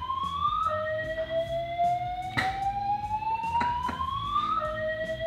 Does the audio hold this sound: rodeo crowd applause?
no